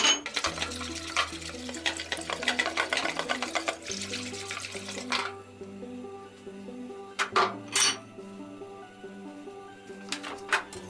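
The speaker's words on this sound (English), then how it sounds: "Add cold water and mix." Powdered tarhana being stirred into cold water in a mixing bowl, with steady watery sloshing and light clinks of utensil against bowl, close and continuous, with a few sharper taps.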